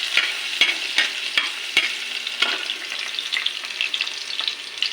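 Onion and garlic sauté in a pan with a steady, bright sizzle that runs throughout, broken by a few sharp ticks and pops early on, close and fairly loud with no voices.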